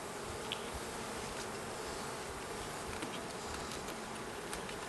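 Honeybees massed on the comb of a queenless hive during an inspection after a split, making a dense, constant buzzing drone close by, with no speech over it.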